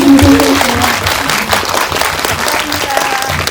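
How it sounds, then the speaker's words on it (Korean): A small cinema audience at a post-screening talk claps warmly, the steady patter of many hands filling the room while a voice briefly speaks over it near the start. "박수를 많이 획득해 가시네요"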